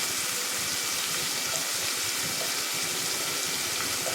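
Tamarind water pours steadily into a pot of curry (mochai kulambu), a continuous splashing gush of liquid with no break and no talking.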